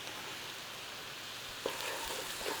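Garlic and ginger sizzle steadily in butter in a pan, a close, even crackling hiss with a couple of small stirring knocks near the end.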